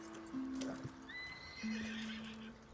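A horse in the video game Red Dead Online whinnies with long, clear neighs while hooves clip-clop nearby, close and distinct over quiet ambience.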